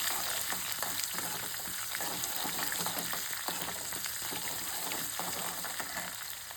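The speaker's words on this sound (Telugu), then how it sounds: "ఆవాలు చిటపటలాడుతున్నప్పుడు కొద్దిగా వెల్లుల్లిని, ఒక చిన్న ఆనియన్స్ కూడా కట్ చేసి ఇందులో వేసేసుకొని వీటిని వేయించుకుందాం" Garlic and chopped onion fry in hot oil with spluttering mustard seeds, giving a dense, continuous close-up sizzle flecked with rapid crackles and pops that holds steady throughout, with no voices.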